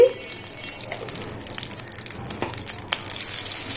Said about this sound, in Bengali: ফোড়নটা দু এক মিনিট ভাজা হয়ে গেছে